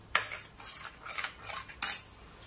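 A spoon scrapes through a cardamom-flavoured mawa mixture in a cooking pan, making a few quiet metallic strokes with short pauses, and no talking.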